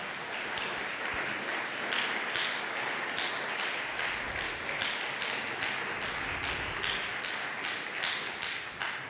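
Church congregation applauds, a steady, dense patter of many hands with faint rhythmic accents, held for about nine seconds at moderate distance.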